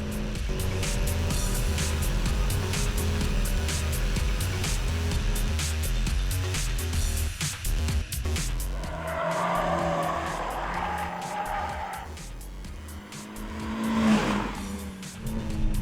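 A Mazda MX-5 turning in on a race track, its engine loud and close with steady revving, then tires squealing and skidding through the corner, with no talking.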